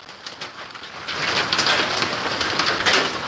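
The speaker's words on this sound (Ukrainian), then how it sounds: "Ти який град падає." Hail pours down outdoors in a sudden heavy storm, a dense, steady hiss of ice pellets striking surfaces that swells louder after the first second and keeps on without a break.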